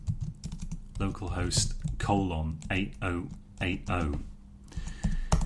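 A command is typed at a computer keyboard in quick clicking bursts, partly buried under someone talking close by.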